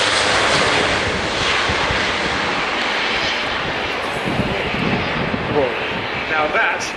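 An Airbus A400M with TP400D6 turboprop engines climbs steeply after a short takeoff roll at an airshow, its loud, broad roar filling the air and holding steady throughout.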